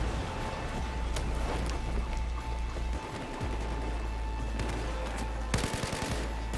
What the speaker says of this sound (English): Figgle fires a few rounds.